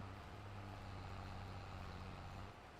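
A tractor engine in the video game Farming Simulator 22 drones in a steady, low hum, then drops slightly in level near the end, with no voices.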